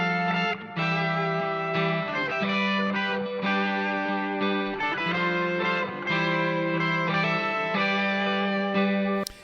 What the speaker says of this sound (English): So you can really hear that Marshall tone.